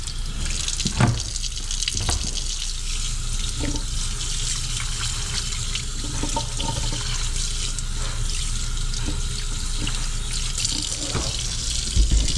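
Running tap water pours steadily over salt-cured sockeye salmon being scrubbed and rinsed in a sink, a loud continuous splashing stream with occasional knocks and shifts as the fish is handled.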